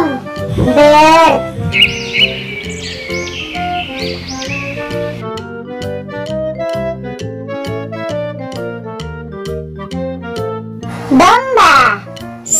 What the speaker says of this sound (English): Burung. Bird.